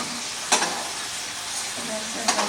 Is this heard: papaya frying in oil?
yes